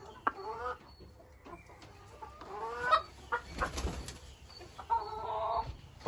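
A Silkie bantam rooster, a bearded bird in a breeding shed, clucks and squawks in short agitated bursts while being handled and picked up, fairly close, with faint shuffling between calls and no speech.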